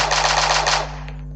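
Automatic gunfire from a weapon in Minecraft: a rapid, loud burst of shots for under a second, then a short fading tail with no voices.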